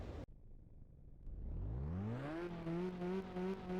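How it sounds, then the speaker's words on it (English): A race car engine in the Ridge Racer video game revs up from silence at the Midtown Expressway start line, its pitch climbing steeply then holding a loud, steady roar. "it's time to fire up those engines"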